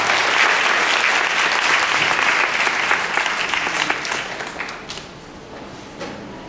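Wedding guests give a big round of clapping that starts dense and loud, then thins out and fades toward the end, with no speech over it.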